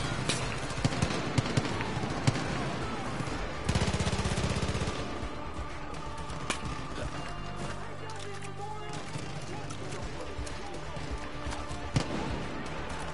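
Rapid gunfire bursts from Far Cry 5 co-op play crackle in repeated volleys across the scene, mixed with game effects and a voice talking throughout.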